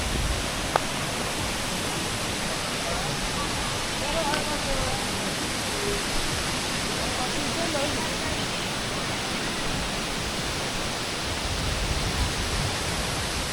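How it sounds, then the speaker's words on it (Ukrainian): Ouzoud waterfall in Morocco roars as a steady, dense broadband rush of falling water, constant and loud throughout with no breaks, close by, with faint scattered background sounds. "Ну ось ми доїхали до водоспаду."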